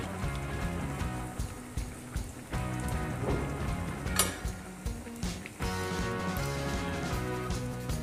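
Bread and potato cutlets fry in hot oil, giving a close, steady crackling sizzle with scattered pops throughout, loud and continuous with brief dips.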